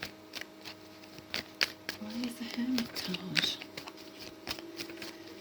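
Tarot cards are shuffled by hand three times in a row, producing soft riffling and flicking bursts that sit close under a woman's ongoing speech during a reading.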